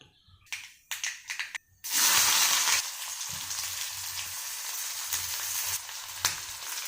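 Mustard seeds hitting hot oil in a pan: a few sharp crackles and pops first, then a loud, steady sizzle that bursts up and carries on close by, with no speech.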